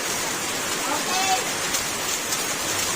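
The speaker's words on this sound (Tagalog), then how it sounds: "Dahil malakas ang ulan, malamig." Heavy rain pours down steadily in Mindanao, a dense continuous hiss filling the background at a fairly loud level.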